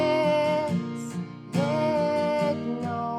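An acoustic guitar strums the chord pattern of the bridge of a song, ringing strokes in a steady down-up rhythm, close and clear with no voice over it.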